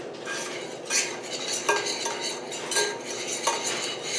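A spoon stirs sugar scrub ingredients, mixed with drops of vitamin E oil, in a bowl, making gritty scraping strokes with rhythmic clinks against the sides, close and clear with no voices.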